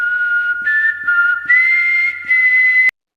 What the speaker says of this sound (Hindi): उसको एक अजीब सी सीटी की ध्वनि सुनाई देती थी।